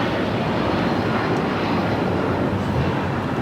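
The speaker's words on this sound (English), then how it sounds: "This is United Airlines 2127 taking off to Newark on the 757-200" A United Airlines Boeing 757-200 taking off at LAX for Newark produces a dense, unbroken engine roar at fairly close range, heavy and even throughout.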